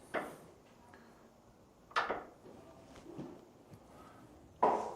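A door closing as a concealed catch pulls the striker in, in a newly built house, heard as three soft, close clicks and thumps spaced a couple of seconds apart over a quiet room.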